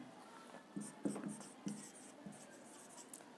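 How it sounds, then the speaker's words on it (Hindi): A pen scratches across paper in a few short, faint strokes and taps while notes on human heart musculature are written during a lesson. "मैं यहाँ पे लिखता हूँ"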